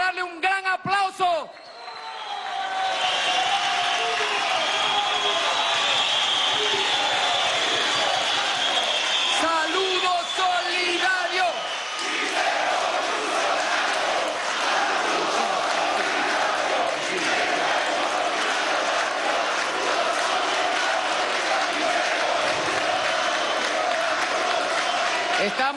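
Large crowd at a workers' rally breaks into sustained loud applause and cheering, with chanting voices and a continuous roar of clapping that swells after a short pause and carries on for many seconds.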